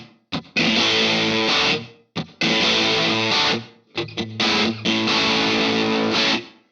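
An electric guitar with echo and reverb plays three loud sustained distorted phrases, each ringing out and decaying into short gaps, up close and without talk.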